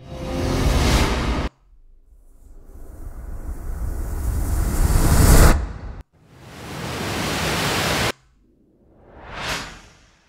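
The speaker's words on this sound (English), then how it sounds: "And now we have generated a whoosh." Several AI-generated whoosh effects from ElevenLabs: loud airy swooshes that swell and cut off abruptly, followed by a shorter rising sweep, with brief silent gaps between them.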